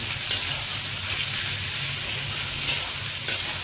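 Mutton masala curry sizzling steadily in a pan while being stirred, with a continuous close hiss broken by a few brief scrapes of the spoon.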